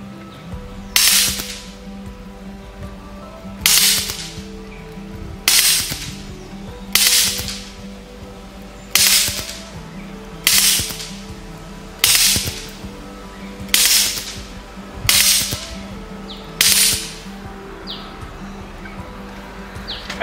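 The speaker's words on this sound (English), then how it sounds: "I'm going to put it onto auto, but I'm just going to shoot it in bursts just to see kind of what that does" An Air Arms SK19 air rifle fires pellets in short full-auto bursts outdoors, about eight sharp cracks spaced a couple of seconds apart, loud and close, with faint birdsong and insects between shots.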